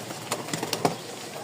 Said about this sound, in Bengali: কবুতর দেখাই। নর দেখছেন, মাশাআল্লাহ প্রতিটা কবুতর অ্যাক্টিভ।